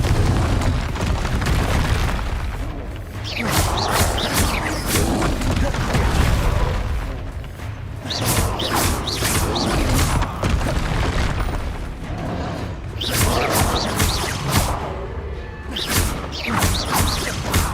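Blasting-spell explosions in Hogwarts Legacy, a run of loud booming bursts and crashing impacts that repeat every second or two over dense game sound effects.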